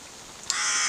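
A crow on a wet day lets out one harsh, rasping caw that starts abruptly midway and holds loud and close to the end.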